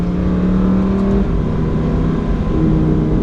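A 2023 Lamborghini Huracan Tecnica drones loudly and steadily with deep exhaust rumble, holding a sustained tone near the listener without clear rises or pauses.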